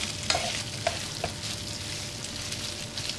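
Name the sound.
rice being sautéed in a pot for pilaf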